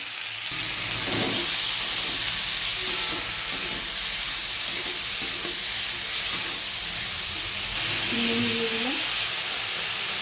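Radish pieces hiss and sizzle steadily in hot oil tempered with black seeds, a close, continuous frying crackle with no talk.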